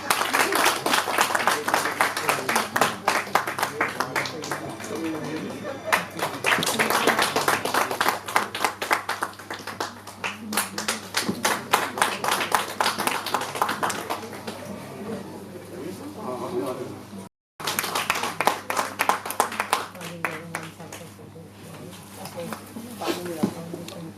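Scattered clapping from a hospital honour ceremony audience, uneven and patchy, sounding under near-constant speech over a PA, with a brief dropout midway.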